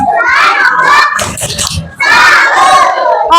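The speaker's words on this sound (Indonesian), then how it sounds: "Berikan tepuk salut." In a classroom, children perform a rhythmic salute clap while chanting and shouting together loudly in two bursts, with a brief pause of scattered clapping between them.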